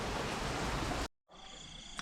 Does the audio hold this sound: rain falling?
yes